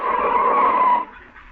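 A car skids to a stop in an old radio comedy sound effect: a loud, sustained tire squeal lasting about a second, then cutting off into quiet.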